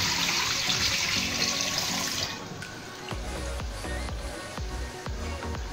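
Rinse water is poured off washed rice during biryani preparation, first a close, continuous splashing pour, then lighter trickles and small drips and knocks as the pouring ends.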